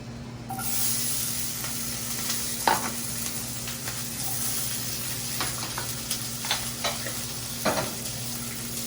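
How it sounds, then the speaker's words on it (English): Steady oily sizzling of peppers and chicken frying in a hot pan, with occasional stirring scrapes and clinks over a constant hiss. "And all we're gonna do is saute the peppers."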